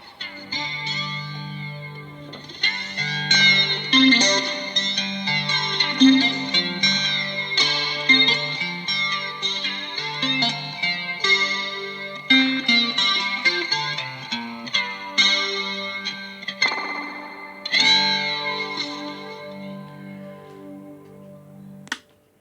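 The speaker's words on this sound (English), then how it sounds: "should we put some reverb, delay on or something like that" An electric guitar plays a melodic line drenched in reverb and delay, notes ringing and echoing into each other, with no talking.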